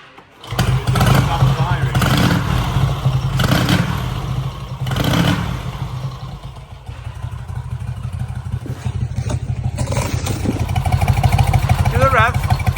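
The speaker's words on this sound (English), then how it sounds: "Spitting back through the carb." A motorbike engine runs close by with a rough, uneven idle and rev surges, spitting and popping back through the carburettor as if running lean. Someone talks over it.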